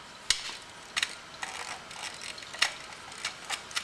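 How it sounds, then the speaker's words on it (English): A ratchet wrench tightens the bolts on a motorcycle's exhaust servo motor during an exhaust install. It makes short bursts of crisp metallic clicks at an irregular, hand-driven pace, close up and with no voices. "Tightening up the bolts for the servo motor right now."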